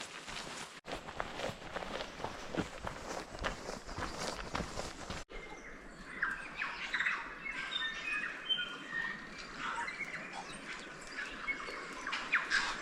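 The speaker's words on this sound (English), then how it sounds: "There's a lot of tuis I can hear. They're very distinctive." Tui birds call in New Zealand bush in winter, scattered whistles and chirps ringing out fairly near over steady background noise and rustling, with a brief break midway.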